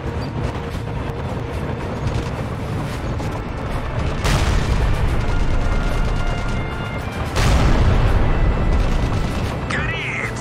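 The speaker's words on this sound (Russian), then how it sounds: "Кто-то другой стреляет." Gunfire and heavy explosions in the shooter game Crysis Remastered, a loud continuous barrage of shots with two big blasts swelling the din partway through, all dense and close.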